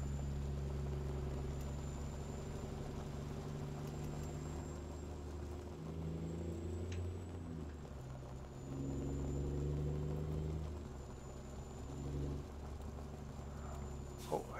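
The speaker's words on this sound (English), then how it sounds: "you don't hear the racket from the truck, just the gravel on the road." In American Truck Simulator, a Freightliner FLC logging truck rolls over a gravel forest road: a low, steady rumble of tires crunching on gravel with faint engine drone beneath, swelling slightly at moments, quiet overall.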